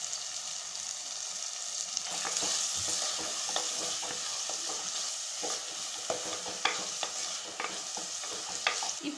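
Chopped tomatoes with salt are sautéed and stirred in a pan, making a continuous sizzle punctuated by repeated scraping and clacking strokes of a spoon, close up and without talk.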